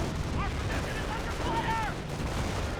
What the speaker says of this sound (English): AT guns advancing, trying to get some shots on in.